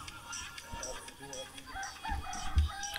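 Roosters on a farm crow faintly in the distance over a low, busy outdoor background with soft rustling, and a few brief thumps nearby.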